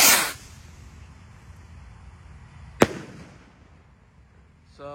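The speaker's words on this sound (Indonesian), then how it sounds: "Di sini ada roket Roman candle terbesar, Gold Dragon roket yang warna merah bosku." A red Gold Dragon Roman candle firework fires outdoors, opening with a hissing burst, then a single sharp, loud crack midway and a fainter crackle at the end.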